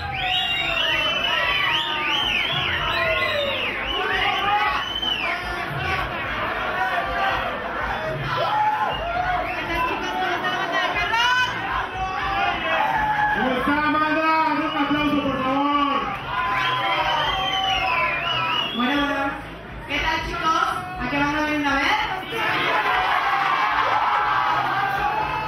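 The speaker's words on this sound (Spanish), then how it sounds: "den un aplauso" Crowd at a rock band contest night cheering, whooping and yelling loudly and continuously for about twenty-five seconds, many excited voices overlapping close by, with applause mixed in under the shouting.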